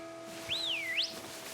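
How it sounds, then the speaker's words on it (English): A person whistles one clear, fairly close tone that rises, dips and sweeps back up in a single half-second phrase over a faint steady electronic hum, with no talking. "Oops, whistling."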